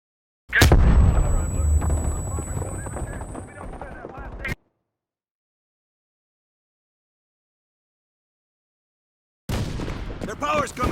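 Bombing run explosions in Call of Duty Black Ops Cold War: loud rumbling blasts and heavy gunfire for several seconds, then sudden silence before another burst of booms returns.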